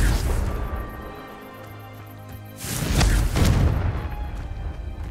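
Confringo explosion spell fired in the Hogwarts Legacy video game: a loud, deep blast rising after a low rumbling lull, followed by a second booming burst and a crackling, roaring decay over background game music.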